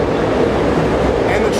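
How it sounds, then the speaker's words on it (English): A passing train gives a loud, continuous rumbling roar throughout, with voices mixed in under the noise. "And then here comes the train."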